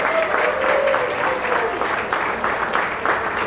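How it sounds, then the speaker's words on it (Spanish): Wedding guests clapping for the newlyweds, a brisk crowd applause with faint cheering, while a voice rises briefly over it near the start before the clapping carries on. "Una vez más, un aplauso fuerte, fuerte, fuerte para los jóvenes que nos escuchen."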